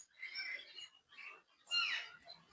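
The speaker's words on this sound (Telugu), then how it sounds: "పక్షుల కిలకిల రావాలు చాలా ఆహ్లాదకరంగా ఉంటుంది" Birds chirp in short bursts at Warangal zoo park, with three clusters of bright calls separated by brief pauses; the last burst is the loudest, and no one speaks.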